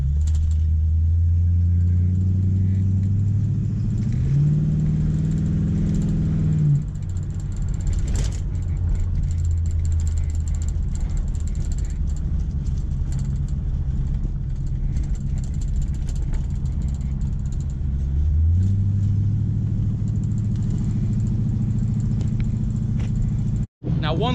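A 1966 Oldsmobile Toronado drives on an open road, its engine giving a steady, close rumble that climbs in pitch as it accelerates, with audible shifts around five and nineteen seconds.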